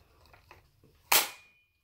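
A part of an airsoft gun is pressed and snaps back into place with one sharp, close click, after a couple of faint softer clicks.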